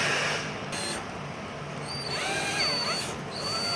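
A power drill drives wood screws into a small wooden table during assembly, with a steady whining motor sound and rising and falling pitch sweeps as each screw is driven in, close and fairly loud.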